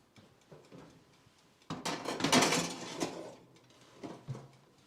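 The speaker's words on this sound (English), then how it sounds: "We pop it in the oven. And we're just using a little toaster oven." A tray of cinnamon rolls slides into a small toaster oven, with a metallic clatter and rattle of the rack and pan, then a couple of softer clunks as the door closes.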